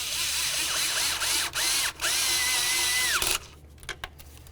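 A power tool with a 10 mm socket runs bolts snug on a Dodge Journey, whining in several short bursts with brief pauses, then a longer steady run that stops abruptly, followed by a few faint clicks.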